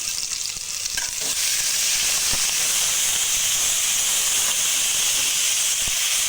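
Masala fries in hot oil in a pan, giving a loud, steady, close sizzle and hiss with a few faint stirring scrapes, with no talking.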